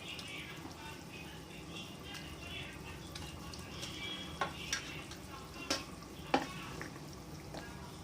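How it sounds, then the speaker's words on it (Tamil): A pot of kizhangaa fish curry simmers on the stove, giving a faint, steady bubbling hiss with a few soft clinks near the end and a voice now and then. "மீன் வந்து குழம்பு நல்லா கொதிச்சிட்ருக்கு."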